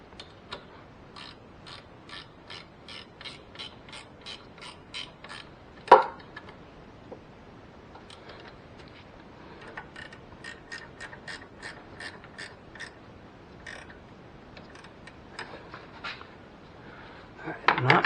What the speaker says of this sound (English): I'm going to tighten it down while holding pressure.